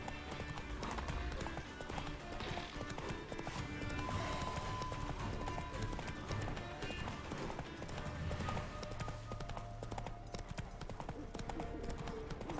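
The horse Roach galloping in The Witcher 3, a rapid rhythmic clip-clop of hooves running continuously under game music and ambience.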